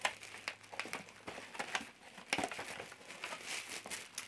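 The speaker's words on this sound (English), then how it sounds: "I'm going to take about half of this piece of tissue paper" Red tissue paper crinkles and rustles in a gift box, close and crisp, with irregular bursts of crackling handling that keep going throughout.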